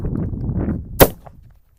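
A homemade gas cannon, used to scare birds from pigeon pea and chickpea crops, fires a single loud, sharp bang that quickly decays after a low background rumble.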